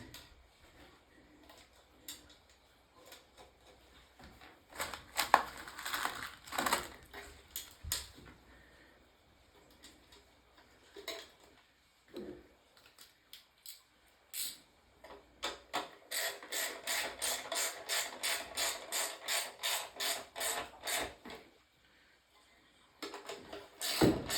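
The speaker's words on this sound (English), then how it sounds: "I'm putting a washer and a nut on all four of these, and then we're gonna tighten it down" Washers and nuts being tightened onto a Satan's Hollow arcade control panel during restoration: scattered close clicks and metallic handling, then a longer run of quick ratcheting clicks near the end, with quiet gaps between.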